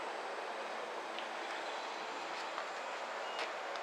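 A train on the Oga Namahage Line in Akita gives off a steady broadband rumble and hiss, moderately close and fairly constant, with a few faint higher squeaks over the running noise.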